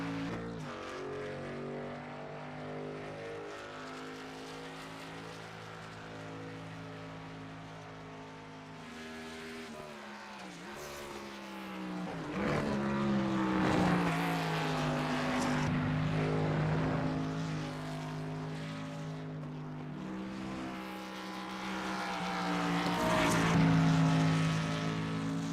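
A race truck running a lap of Watkins Glen in a sim-racing truck series, its engine drone steady and rising and falling through gear changes and corners, swelling louder twice as it accelerates, with no talk.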